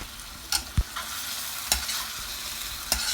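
Bean sprouts, chicken, tofu, Chinese celery and red chili stir-fried in a pan, a steady sizzle broken by a few sharp scrapes and knocks of the utensil against the pan, spaced about a second apart.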